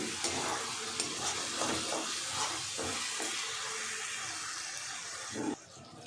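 Hot water poured into a cooking pan hisses and sizzles against the hot surface, a steady bubbling fry with stirring clinks, fairly close, ending with a sharp splash and a drop in intensity.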